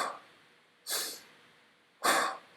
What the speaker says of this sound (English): Now, is that belly breathing?